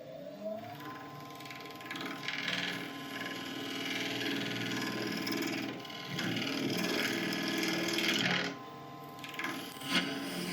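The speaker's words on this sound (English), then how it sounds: "Lid's on the lathe. I'm just going to quickly flatten off this top" A wood lathe spins a boxwood lid while its top is flattened, producing a continuous mechanical whir and hum with rising and falling cutting noise and a brief change near the end.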